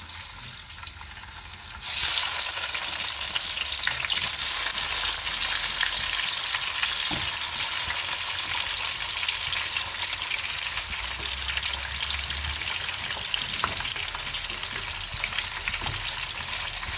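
Pieces of katla fish fry in hot oil in a frying pan, a loud continuous hiss and crackle that jumps up suddenly after a quieter start and then holds steady near the microphone.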